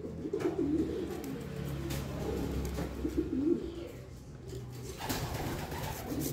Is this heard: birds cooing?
yes